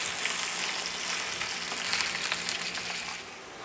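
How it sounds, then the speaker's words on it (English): Potatoes, peppers and onions fry in a pan, giving a continuous close hiss and crackle that fades slightly toward the end, with no voices. "So this has been going in my pan for a couple of minutes after I've gave them a flip"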